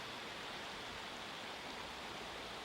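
Continuous broadband rush of river water flowing at Binaeseom island in Chungju, steady and soft, heard alone without voices.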